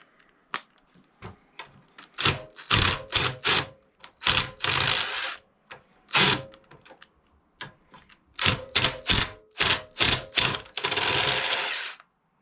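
A ratchet turns a six-sided 7/16 socket on a 1975 Briggs and Stratton 8 hp engine, producing sharp, clicking bursts in irregular clusters, close and crisp against a quiet background.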